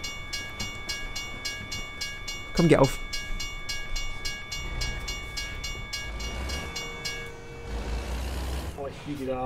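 A small train rolls past in American Truck Simulator, a steady mechanical rumble with a rising horn-like sweep partway through, heard under German talk.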